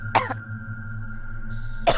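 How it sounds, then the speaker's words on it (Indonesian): Two soft coughs from a person inside a small roadside food stall on a rainy day, one early and one at the end, separated by a low, steady background hum. "tiba-tiba di dalam warung ada suara orang batuk-batuk perlahan."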